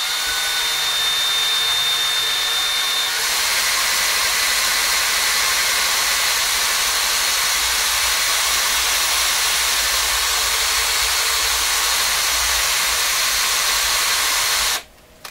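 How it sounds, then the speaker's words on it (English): A grinder hisses and whines steadily while taking worn rubber off the drive wheel of a Viking Console RC311 reel-to-reel recorder. It stays loud and close for about fifteen seconds, then cuts off abruptly. "as you grind off the really ruined rubber on the outside."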